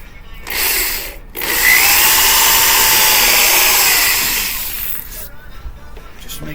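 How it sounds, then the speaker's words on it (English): A power drill bores into wooden six-foot sections, with a brief whir, a short pause, then a loud sustained grinding whine of about three seconds that winds down, close and alone. "Just make sure I stayed square when I drilled."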